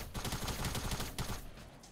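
Rapid bursts of SMG gunfire in Fortnite, a dense fusillade of shots over about a second and a half, then a brief pause and a last short volley, loud and with no talk.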